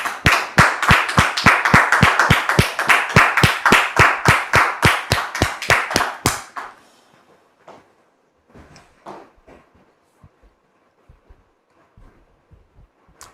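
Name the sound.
studio audience applause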